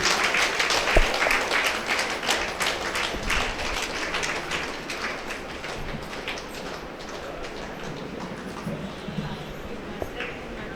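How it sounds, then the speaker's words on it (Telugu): Dense clapping from an audience at a meditation gathering in Pithapuram fills the hall steadily and loudly, with voices mixed faintly underneath. "లేచి వారికి చప్పట్లతో స్వాగతం పలుకుదాం"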